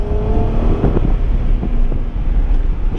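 A 1997 Acura NSX's V6 drones steadily as the car pulls hard onto the freeway, the engine note mixed with road and wind rush from inside the cabin, continuous and fairly loud throughout.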